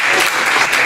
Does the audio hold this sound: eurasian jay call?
no